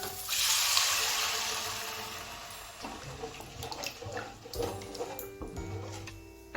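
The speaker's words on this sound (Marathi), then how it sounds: "त्यामध्ये आता पाणी ॲड करून घेऊया" Water poured into sizzling Kolhapuri misal masala in a pan, a soft gushing splash at the start that fades into gentle bubbling and small clinks, close and fairly quiet.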